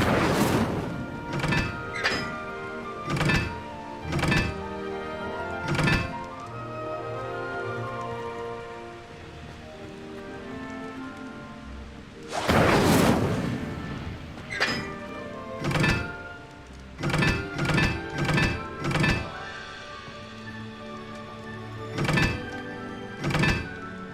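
Fire spell casts in Hogwarts Legacy on PS5: a string of sharp, punchy bursts at irregular intervals, with one larger, longer blast midway, all fairly close and without talk.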